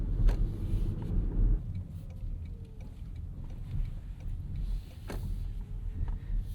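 A 2025 Toyota Crown Signia wagon pulls in slowly, heard from inside as a low steady engine and road rumble with a few faint ticks and clicks, no talking.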